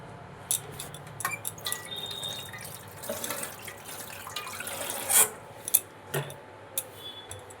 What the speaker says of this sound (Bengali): এবার দেবো সর্ষের তেল